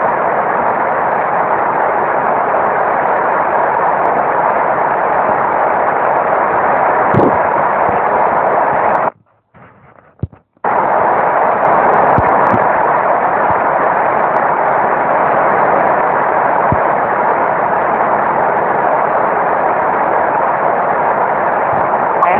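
A jet airliner in Infinite Flight roars through its takeoff run, a loud steady broadband engine rumble that drops out briefly for about a second before resuming at full strength.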